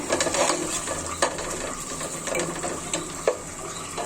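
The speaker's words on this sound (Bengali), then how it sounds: "নেড়ে দিচ্ছি" A lentil curry with gourd is stirred in a pan: a continuous low bubbling sizzle broken by sharp spoon scrapes and taps against the pan, close up and without speech.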